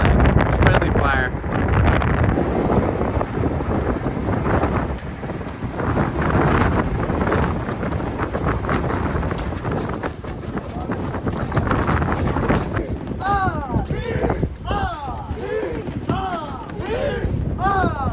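Wind roars steadily across the deck of the tall ship Lynx under sail at sea between Newport, Rhode Island and Martha's Vineyard, loud and continuous with heavy buffeting, while people talk and call out over it.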